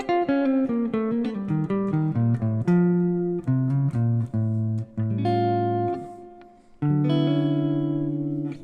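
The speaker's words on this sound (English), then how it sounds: "you can play that scale over these types of altered dominant chords." Clean electric guitar plays the altered dominant scale over altered dominant chords in a neo-soul style, picking clear single notes in an even stepping line, then letting chords ring out near the end.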